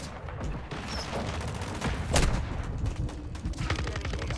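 Rapid automatic fire from a 50-round gun in Modern Warfare 2 rattles on continuously in dense bursts, with a sharper crack near the middle amid other in-game battle noise.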